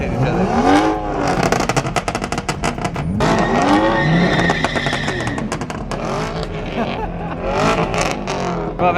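Ford Mustangs revving hard and skidding on a street, loud roaring engines and squealing tires in repeated bursts, close by, with people talking and shouting over the noise.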